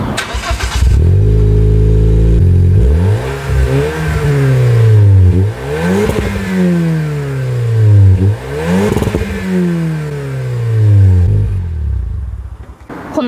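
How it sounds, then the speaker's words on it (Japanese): A Toyota Corolla Sport fitted with a Fujitsubo muffler exhaust revs loudly and up close, giving several deep, rising-and-falling blips of the engine in a steady rhythm before settling at the end. "お待ちかねのマフラーサウンド、どんな音するんでしょうね。"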